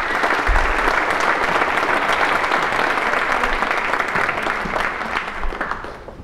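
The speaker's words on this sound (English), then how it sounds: "I would love to have a round of applause for the entire panel" A crowd at a conference panel session on life under drones applauds the panel, dense, even clapping filling the room steadily before thinning slightly toward the end.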